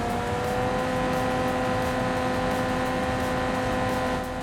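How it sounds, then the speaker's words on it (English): Simulated car engine in BeamNG holding a steady high-revving drone while waiting to shift up. A constant, fairly faint whine with no pitch change and no talk. "Car doesn't want to shift yet."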